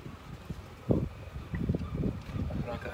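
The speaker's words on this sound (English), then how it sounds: "The wind." Wind blows outdoors in uneven gusts, with low rumbling bursts buffeting the microphone on an otherwise quiet background.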